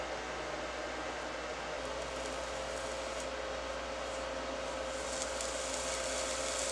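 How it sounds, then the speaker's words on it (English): A cheap welder able to push over 100 amps drives current through a dish of salsa, giving a steady, fairly loud electrical buzz and hiss that runs unbroken from start to finish. "I've got a cheap welder that can crank out over 100 amps"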